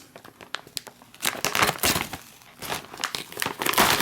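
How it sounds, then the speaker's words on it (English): A Daff Red Line salmon paella ration pouch, a Chilean civilian 12-hour ration, is cut open from the back with no tear notch, giving close crinkling and crackling of the packaging in bursts, loud and up close with no talk. "So I'm just going to go ahead and cut this open from the back."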